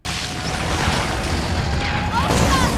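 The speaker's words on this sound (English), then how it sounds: "things are just exploding now, all of a sudden" Explosions in a television show scene, a sustained loud booming roar with crashing bursts that fills the whole stretch, with another surge near the end.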